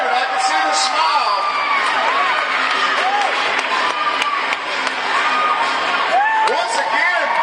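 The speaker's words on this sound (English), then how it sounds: "Little Mermaid in with that inside pass, and the crowd lets her hear it." Roller derby crowd at a season opener cheering and whooping for a skater's inside pass, loud sustained shouts and high cheers filling the arena throughout, with scattered voices and whistles rising above the roar.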